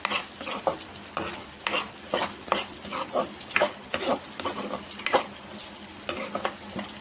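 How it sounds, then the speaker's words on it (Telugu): Carrots fry in a pan for a potato, green pea and carrot kurma curry, with a constant close sizzle and a spoon scraping and stirring in uneven, repeated strokes. "క్యారెట్ కూడా ఒక 5 మినిట్స్ మంచిగా దీంట్లో ఫ్రై అయిపోవాలండి"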